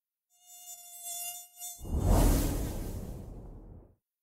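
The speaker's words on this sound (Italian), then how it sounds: "quello che avete sentito e il rumore che fa una zanzara" A mosquito's high, thin wing whine hums steadily up close, then gives way to a loud, rushing buzzy swoosh that fades out after a couple of seconds.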